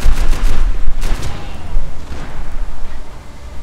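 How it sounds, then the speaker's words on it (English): Machine gun fire in Max Payne 3: a loud, close burst of rapid cracking shots opening the moment, then scattered thuds and a lower rumble as the firing tapers off. "I've got a machine gun, you pricks."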